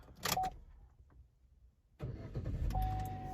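A GMC Terrain with a newly programmed flip key briefly chimes, falls quiet, then cranks and catches, settling into a steady close idle with a faint electronic tone over it.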